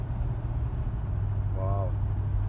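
A 1977 Ford LTD engine drones with a steady low rumble inside the car as it accelerates, with a brief voice heard over it.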